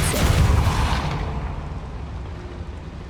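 The Depulso spell in Hogwarts Legacy lands as a loud booming blast with a deep rumble that fades away over a few seconds, with no voices.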